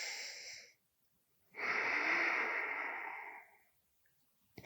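Deep breathing during a yoga side stretch: a short exhale, a pause, then a long, audible breath lasting about two seconds, close and soft, with no talk.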